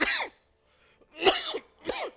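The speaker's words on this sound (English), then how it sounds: "I apologize for the cough." Three hoarse coughs come close to the mic: one burst, a short pause, then two more in quick succession.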